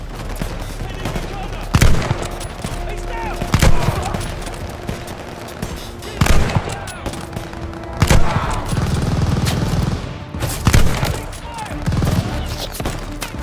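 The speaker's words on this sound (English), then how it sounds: "Suppress the half-track MG!" A German half-track's mounted machine gun in the Call of Duty: Vanguard WWII campaign fires repeated loud bursts, with rattling volleys and heavy reports over a constant battlefield rumble.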